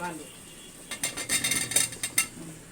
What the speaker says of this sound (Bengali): আলুগুলি আমি দিয়ে নেড়ে চেড়ে দিলাম।